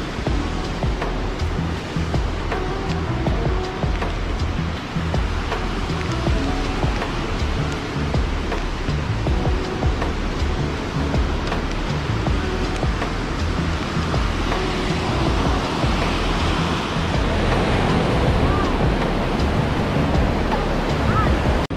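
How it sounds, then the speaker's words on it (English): Steady roar of rushing water along a hiking trail heading down to a waterfall, loud and continuous, with wind buffeting the microphone and no clear talking. "I think this is down to the waterfall"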